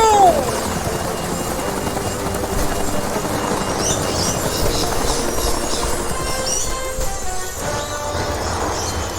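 Helicopter in the video game Ty the Tasmanian Tiger 2, a steady mechanical whirring drone that runs throughout, mixed with other game sounds and brief effects, fairly loud and continuous.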